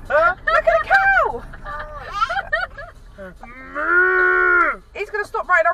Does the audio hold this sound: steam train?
no